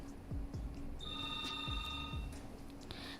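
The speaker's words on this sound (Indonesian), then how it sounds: "kita terima telepon dulu nih sebelum break" Telephone ringing for an incoming call to a radio talk show, a steady electronic ring tone running through most of the brief clip over faint studio background, with no talk.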